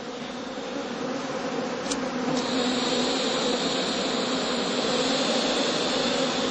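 Honey bees buzz around heather skeps in an apiary during late autumn feeding, a steady, dense drone that holds close and fairly loud throughout, with a couple of brief high ticks early on.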